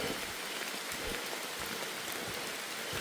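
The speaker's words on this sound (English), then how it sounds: "Still coming down pretty decent, but it was coming down hardcore." Steady rain falling on the Appalachian Trail in North Carolina, a dense, even hiss of drops hitting surfaces with a few louder spatters, close and continuous with no talking.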